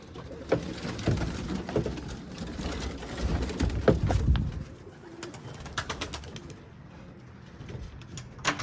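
Pigeons cooing close by, soft low throaty coos repeating through the first half over rustling and outdoor background noise, fading to quieter ambience later.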